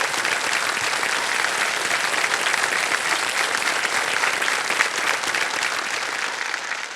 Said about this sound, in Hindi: ये तालियां बज जाएं इनके लिए